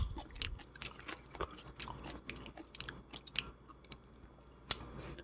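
Close, wet chewing and crunching of raw spoon worm (gaebul) seafood with chili and wasabi, a steady run of soft bites and smacks with no talking.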